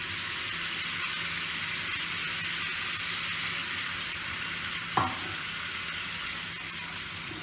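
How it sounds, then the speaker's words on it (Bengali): Spices sizzle and fry in hot oil for a pabda fish curry, a steady crackling hiss that runs throughout with a single brief clink of a utensil midway. "এই কষতে কষতেই আমি একসময় মাছটা দিয়ে দেব।"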